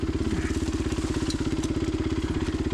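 A motorcycle engine on steady throttle along an overgrown trail, a loud, close, rapid pulsing chug with an even rhythm throughout, with no voices.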